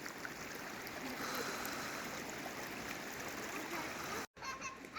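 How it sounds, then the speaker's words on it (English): Clear river flowing at Garner State Park in Concan, Texas, a steady rushing and splashing wash of water throughout, briefly cut by a short silent gap near the end. "there's a beautiful crystal clear river, probably the best in Texas"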